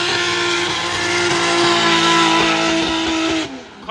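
Drift car at practice for a drift championship in Cyprus, its engine held at high revs in a loud steady drone that rises slightly, with tyre noise under it before it drops away abruptly near the end.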